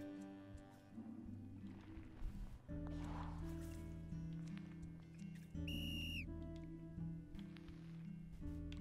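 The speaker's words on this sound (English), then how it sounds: "Whistle." A short, bright whistle tone stands out briefly over layered game music and ambient sound, with no talk.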